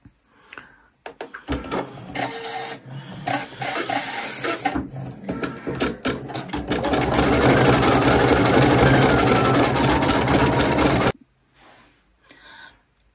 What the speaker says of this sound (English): I'm just going to show you a little bit of each colour as I stitch it out